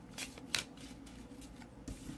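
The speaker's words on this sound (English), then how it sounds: "I do feel comfortable shuffling this deck" A Knapp-Hall tarot deck is ruffle shuffled nearby in quiet, brief riffling bursts with a soft snap, faint overall and with no talk.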